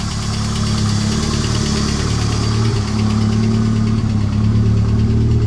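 Car engine idling close by, a steady low rumble with a faint knocking vibration, constant and loud, without any talk.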